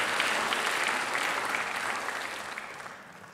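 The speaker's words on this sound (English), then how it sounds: "Give you a round of applause." Audience applause at a school presentation in an auditorium, dense steady clapping from many hands that starts full and gradually fades over a few seconds, with no talking over it.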